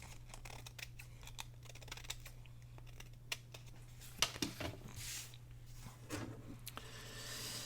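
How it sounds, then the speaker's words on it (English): Several quick snipping cuts from scissors trimming packaging, close by, with light rustling and crinkling between snips over a low steady hum. "use my scissors right here and just trim this uneven piece off"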